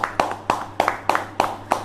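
Participants at an online public speaking competition's result announcement clap in a steady rhythm, about six evenly spaced, close hand claps in under two seconds.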